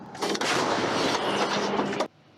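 A loud, sustained blast from an artillery gun firing, with a rumbling roar lasting about two seconds, then cutting off abruptly to quiet.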